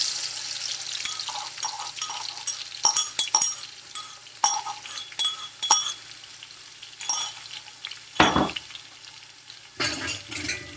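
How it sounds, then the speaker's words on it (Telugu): Crushed garlic fries in hot oil for a coriander pickle, a low sizzle broken by light spoon clinks and stirring scrapes, with a short splash of running water near the end, close by and without talk. "ఇప్పుడైతే ఆయిల్ వేడైపోయింది ఇప్పుడు మనం దంచుకొని పెట్టుకున్న తెల్లుల్లి వేసి వేయించుకుందాం"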